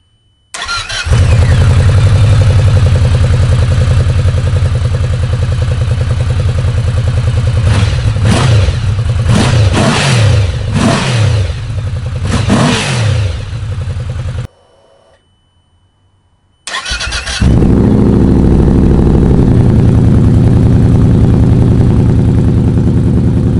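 A Yamaha VMAX 1700 motorcycle with a VooDoo slip-on exhaust starts and idles with a deep, throaty exhaust, then revs sharply several times, cuts off briefly, and starts again to idle loudly.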